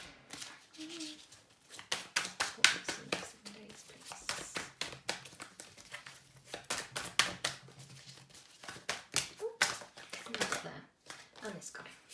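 A deck of tarot cards is shuffled close by, giving rapid crackling riffles in repeated bursts, with a quiet voice talking briefly in between.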